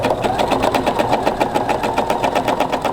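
A domestic sewing machine runs steadily during free motion quilting, its needle chattering in a fast, even mechanical rhythm close by, with no talking.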